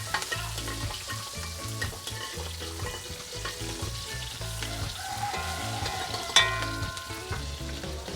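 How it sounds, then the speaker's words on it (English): Steady close sizzle of onion and garlic frying in a hot pot, with soft stirring and a sharp clink partway through, no talking. "Nice, it's frying up there."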